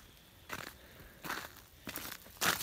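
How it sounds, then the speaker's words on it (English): Ice-coated tree branches crack and snap during an ice storm in Tennessee, four separate crunching bursts spaced roughly evenly apart, the last one loudest, against a quiet background. "Look at all those branches right there on that tree. They're just all snapping."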